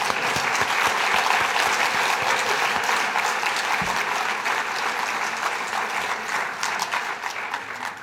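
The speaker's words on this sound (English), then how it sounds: "So let's give them all a round of applause." Audience at an IDD Awareness Day luncheon in Colorado applauds award nominees, a dense, steady round of clapping from a large crowd that holds at full strength for the whole stretch and fades only slightly toward the end.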